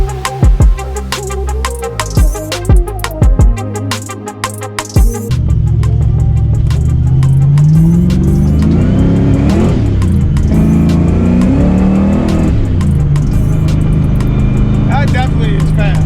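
A modified car engine revs and accelerates hard from inside the vehicle, a sustained loud roar after some clattering at the start.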